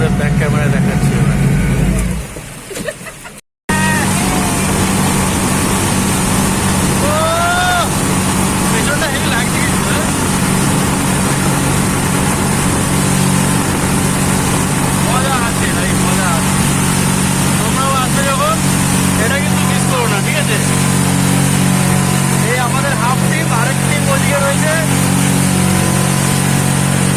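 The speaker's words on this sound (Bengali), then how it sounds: "এই স্টার্ট হলো বোট।" A motorboat engine, just started, settles into a loud, steady roar that runs unbroken for more than twenty seconds after a brief cut near the start.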